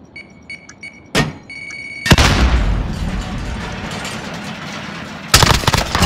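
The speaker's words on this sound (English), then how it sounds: "Cruise missile go for launch" A cruise missile explodes in a competitive shooter video game with a sudden loud blast and a long, roaring rumble, then another sharp burst near the end. Small pings and clicks come before the blast.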